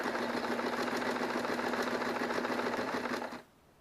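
A sewing machine stitching binding onto a quilt runs in a fast, steady mechanical whir with rapid needle ticks for about three and a half seconds, then stops abruptly into quiet.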